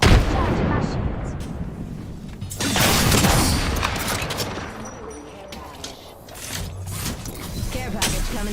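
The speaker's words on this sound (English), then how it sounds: "I'm spotted, taking fire." Dense gunfire and explosions fill a shooter video game scene, with rapid bursts and heavy booms layered over one another, loud and continuous, mixed with game voice callouts.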